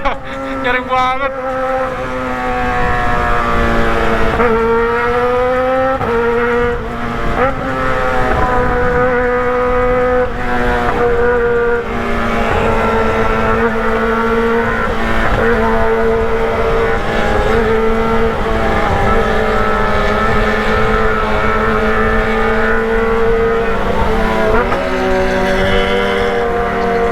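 A loud Kawasaki ZX motorcycle engine drones continuously with rising and falling pitch sweeps, revving up and easing off repeatedly, close by and steady throughout.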